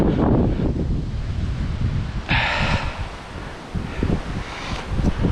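Strong wind gusting at a riverbank during October feeder fishing in stormy, rainy weather, buffeting the microphone with a steady roar and rustling, with a brief hissing surge midway.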